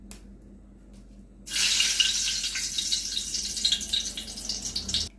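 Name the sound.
dried red chillies sizzling in hot mustard oil in a wok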